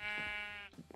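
A Minecraft sheep gives a single clear bleat, wavering and close, lasting just over half a second, followed by faint quiet shuffling.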